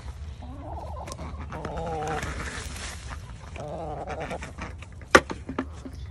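Backyard permaculture poultry flock clucking and gobbling contentedly nearby, warbling calls rising and falling under a person's voice, with a couple of sharp knocks near the end.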